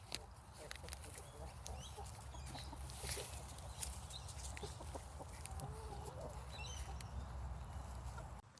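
Chickens cluck softly on a homestead, with a livestock guardian dog moving slowly among them; steady low farmyard murmur with scattered bird calls throughout, no talking.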